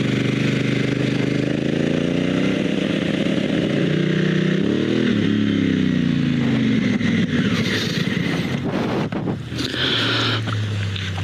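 A dual sport motorcycle on Metzeler Karoo 3 rally tires runs along a road, its engine droning steadily and climbing in pitch as it pulls, with wind rushing over the microphone near the end.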